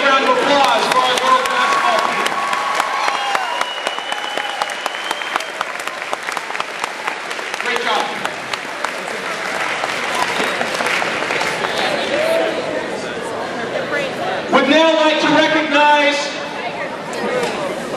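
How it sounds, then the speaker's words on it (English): A school gym crowd at a winter sports recognition assembly gives a long, loud round of applause for the girls' team, with sustained clapping, chatter and scattered cheers, swelling again near the end. "Another great round of applause for our girls."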